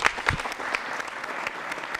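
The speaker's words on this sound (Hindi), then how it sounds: "तालियां जोरों से बजाइए" A short burst of applause from an audience at a quiz show held at Manipal University, brisk clapping with a few louder individual claps, heard alone with no talking.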